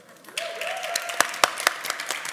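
A short burst of applause at a panel discussion, with a few sharp, distinct claps standing out, while a voice speaks briefly at the start.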